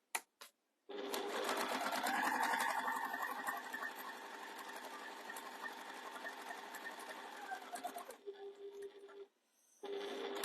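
Pippin B14 sewing machine stitching, a close, steady mechanical whir with a constant hum running for about seven seconds, then a brief pause, a short burst and a final restart.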